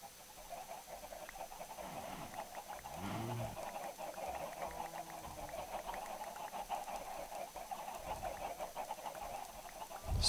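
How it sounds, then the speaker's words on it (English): Chickens in the video game Minecraft cluck in short, repeated calls over a quiet game background, with a few separate clucks close together early on and lighter ambience after. "So many chickens."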